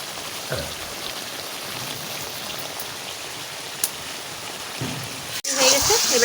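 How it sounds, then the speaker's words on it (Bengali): Sizzling prawn biryani masala with prawns, potatoes and eggs hisses steadily in a pan, then a sudden rush and louder splashy crackle as water is poured in, with a voice talking quietly. "জল দিচ্ছি"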